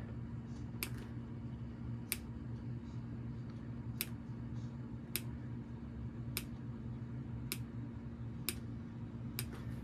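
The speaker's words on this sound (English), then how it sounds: "this is where precision scissors come in handy. So you just want to put a few snips." Precision scissors snip TPU vinyl in a sewing room, giving about seven crisp, faint clicks spaced roughly a second apart over a low steady hum.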